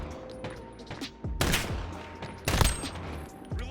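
Sharp gunshots ring out in Call of Duty Modern Warfare, with Desert Eagle pistol fire among them. Two strong, loud reports stand out between lighter, scattered shots and game effects, with no talk.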